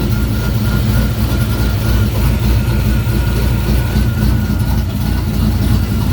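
A 1969 car engine fitted with a new Holley Ultra Street Avenger carburetor runs at a steady idle, a close, continuous low rumble with an even pulsing throb and no voices.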